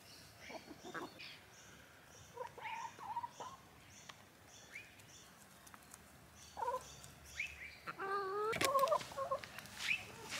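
Chickens cluck and squawk around a backyard vegetable garden, scattered soft clucks early then louder, busier calls near the end, close by with no talk.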